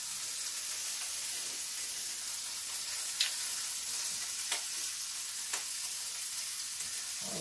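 Food frying in a pan: a faint, steady hiss of frying fat with a few brief crackles and pops spaced out, heard alone and fairly quiet.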